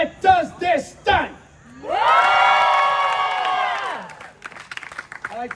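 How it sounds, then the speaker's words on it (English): An audience at a live sword-swallowing stunt show breaks into loud, sustained cheering and whooping for about two seconds, after shouted talk from the performer, with scattered voices and claps as it fades. "I'd like to thank you guys for cheering for the village idiot."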